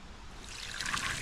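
Water is poured onto a freshly sawn red cedar log at a sawmill. A soft trickle rises to a brighter splashing spill over about a second.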